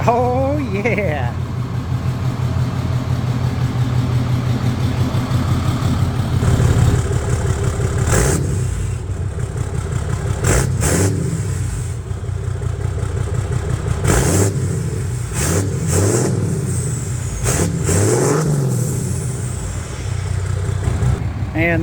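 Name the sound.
diesel pickup truck engine, delete exhaust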